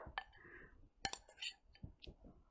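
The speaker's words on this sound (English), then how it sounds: "we'll whisk it all together until we have a nice batter" Banana pancake batter whisked in a bowl, a quiet series of irregular clinks and taps of the whisk against the sides, close and faint.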